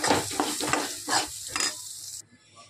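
Stuffed bitter gourds sauté in oil with a bright, close sizzle and several rhythmic spatula strokes, then the frying cuts off abruptly near the end, leaving a quiet tail.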